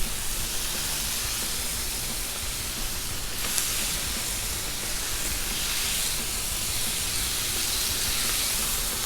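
Chicken drumsticks sizzle on a Blackstone griddle, a steady, even hiss of frying that holds at the same level throughout, with no voices.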